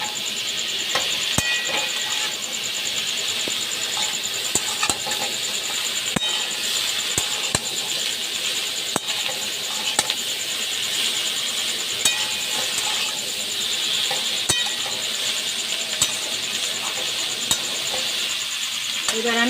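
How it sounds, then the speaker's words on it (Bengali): Chichinga (snake gourd) with shrimp and spices is stirred in a frying pan, making a steady sizzle with repeated scraping and clinking spoon strokes throughout, close and moderately loud. "এটাকে আমি মশলার সাথে ভালো করে মাখিয়ে নিচ্ছি।"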